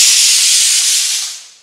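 A kitchen pressure cooker vents steam in one loud, close, sustained hiss that fades out over its last half second, alone without talk.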